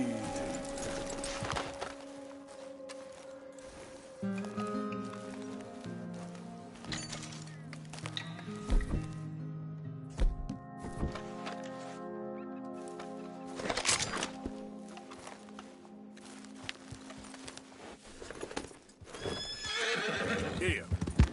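A horse in Red Dead Redemption 2 gallops and whinnies, bursts of hoofbeats broken by loud neighs, with a voice talking and music-like tones in the background.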